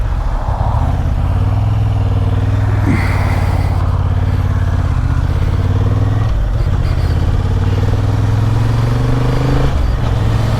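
A Honda CB750 Hornet motorcycle is ridden on the road, its engine a steady, close droning hum with slight changes in pitch and some wind rush, and no talking.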